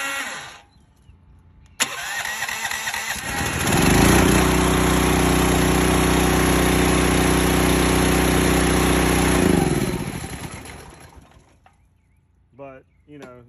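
A Predator 420 gas engine on a pressure washer cranks and catches, ramps up to a loud steady run, then shuts down and winds away, with birds chirping faintly afterward.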